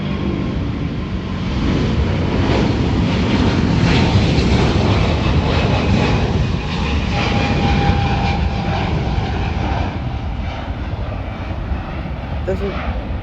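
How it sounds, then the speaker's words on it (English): A United Airlines Boeing 777-222 jet takes off with a loud, continuous roar that stays broad and steady throughout and tails off slightly near the end, with no one talking over it. "But here comes Boeing 777-222 United Airlines."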